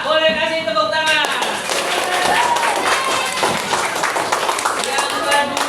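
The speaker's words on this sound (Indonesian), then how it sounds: "Boleh kasih tepuk tangan." Classroom applause for group A at a school learning session, a lively patter of many hands clapping together under ongoing voices and some chatter.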